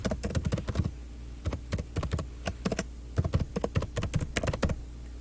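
An email address is typed on a computer keyboard in quick, irregular bursts of crisp key clicks with brief pauses between groups, close and clear.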